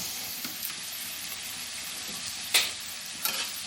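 Onions and chicken frying in a pan, a soft continuous sizzle with a few sharp utensil scrapes, one louder stir near the middle and another toward the end.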